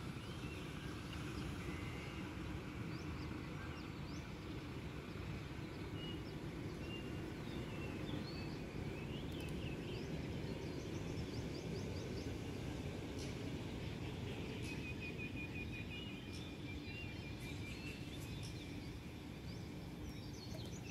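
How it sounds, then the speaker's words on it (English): Birds singing at daybreak under a cloudy sky, scattered chirps and short warbling calls heard at moderate distance over a constant low rumble of background noise. "That's my natural alarm, the sound of the birds."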